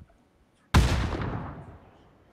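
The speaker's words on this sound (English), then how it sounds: "I'm gonna throw a grenade" A video game grenade blast going off in one loud, sudden boom that rolls out into a decaying rumble lasting over a second.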